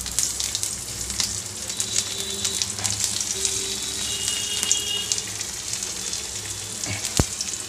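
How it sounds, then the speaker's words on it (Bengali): Whole cumin and garlic sizzle in hot oil over low heat for a thin boal fish curry with potatoes, a continuous crackling fry with scattered pops and a sharp clink near the end. "রসুন ফোড়ন দিলাম।"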